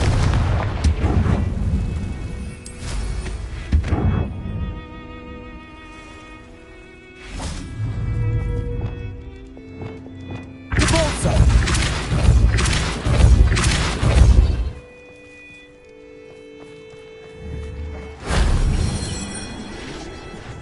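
Confringo blasting spells in Hogwarts Legacy go off as repeated heavy booming blasts with whooshing bursts, several separate explosions spaced across the stretch and quieter magical tones ringing between them.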